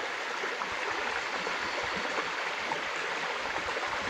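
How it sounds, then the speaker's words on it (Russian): Babbling river and spring outdoors on a hot day, a steady, soft rushing and gurgling of flowing water with no break and no talking. "Шумит речка, шумит родник."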